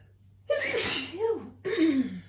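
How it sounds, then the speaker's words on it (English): A single sharp sneeze with a gasping intake, followed by a brief voiced exhale, close and fairly loud. "Sneezing."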